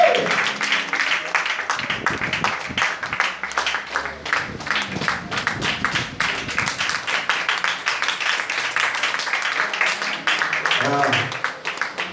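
A church congregation bursts into sustained applause and cheering, with dense clapping and voices filling the room for several seconds.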